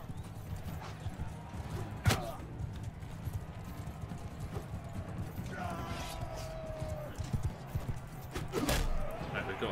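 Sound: horse hooves clip-clopping in the video game Bannerlord

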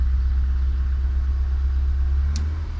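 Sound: Fiat Uno 70 engine idling on LPG

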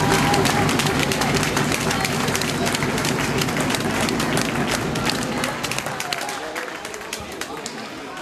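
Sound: audience applause at youth handball award ceremony

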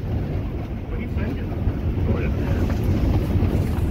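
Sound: strong wind blowing at an ice shack

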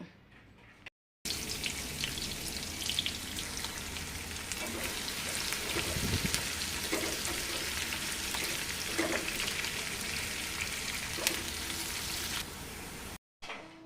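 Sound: chopped onions frying in hot oil in a frying pan

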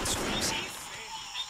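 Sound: gunfire in the Vietcong video game

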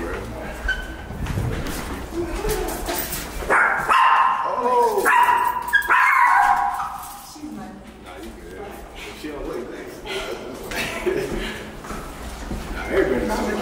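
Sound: dog barking

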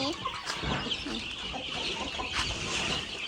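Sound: chicken clucking

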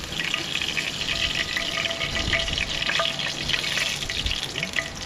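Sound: frying food

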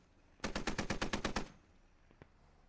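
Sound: gunfire in a video game (Squad)

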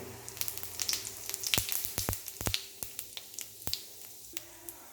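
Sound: whole cumin seeds sizzling in hot oil in a wok

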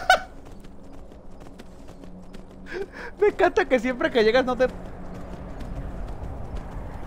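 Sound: horse hooves clip-clopping in Skyrim video game

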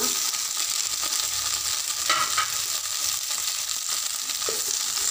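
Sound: cauliflower and potato frying in oil in a frying pan

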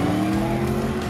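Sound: Chevrolet Camaro 2010s exhaust note

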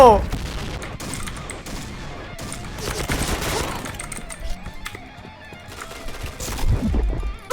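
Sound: Honey Badger light machine gun firing in video game Point Blank

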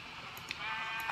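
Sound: sheep bleating in the video game Minecraft

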